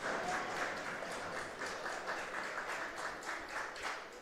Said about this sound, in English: Fans trying to cheer along Daniel Gore here